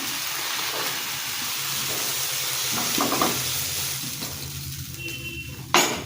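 Eggplant frying in oil in a wok: close, steady hissing sizzle with a few stirring scrapes, easing slightly before a sharp clatter near the end, no talking.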